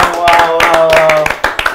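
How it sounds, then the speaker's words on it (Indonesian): Studio audience clapping on an Indonesian talk show set, a brief burst of scattered claps under loud overlapping speech, with a few sharper separate claps near the end. "Tepuk tangan"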